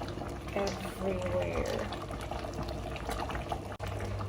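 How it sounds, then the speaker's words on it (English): Red currant jam bubbles at a steady boil in a tall pot, a continuous busy simmer with a person talking over it. "It's almost been 5 minutes since I started boiling the jam"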